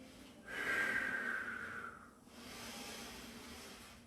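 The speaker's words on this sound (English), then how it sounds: "all the breathing is done through the nose, not through the mouth" Qigong breathing exercise done entirely through the nose: one long, loud nasal inhale with a hissing, whistling edge, then a softer, steady exhale, close to the microphone.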